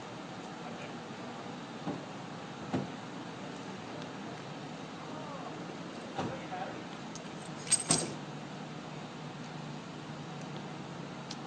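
Keys jingle faintly in a few short bursts during a pocket search in a police stop, under a steady low hiss of road or traffic noise.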